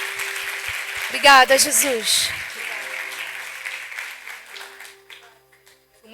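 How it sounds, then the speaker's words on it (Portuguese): A church audience applauding at a women's worship event, a burst of clapping that swells and then fades under someone speaking and a sustained background tone. "Você pode aplaudir o Senhor pela vida da Lívia?"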